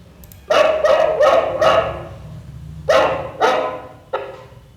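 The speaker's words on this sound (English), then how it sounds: "drag our dog sound to the play sound" A dog barking sound effect triggered by a button in a Unity mobile app: a quick run of four clear barks, a pause, then three more, loud and close with no talk over them.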